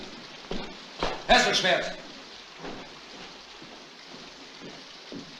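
Steady rain falls as a continuous hiss behind a nineteenth-century Bavarian scene near Hohenschwangau, with someone speaking briefly over it and the downpour carrying on alone.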